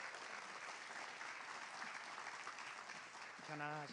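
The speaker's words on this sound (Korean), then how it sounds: "우리 선교사님 올라오실 때 우리 큰 박수로 환영해 주시기 바랍니다." A church congregation at a Friday worship service gives a missionary a welcoming round of applause, steady and fairly faint as if heard from across the hall, and a voice begins speaking near the end.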